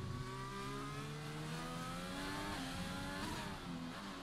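A McLaren Formula 1 car in the racing game F1 2020 drives at the Dutch GP, its engine holding a steady high whine as it shifts upward through the gears across about four seconds, with no talk over it.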